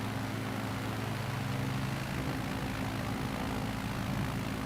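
A low-flying airplane in a flight simulator game over the New Zealand coast, a steady droning propeller engine hum that stays loud and constant throughout with no voices.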